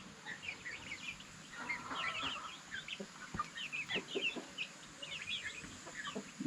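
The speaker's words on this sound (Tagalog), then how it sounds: "Yan yung mga breeder natin ng mga manok." Breeder hens on a farm's free-range area cluck and chatter in a lively overlapping stream, with several birds calling close by and others farther off.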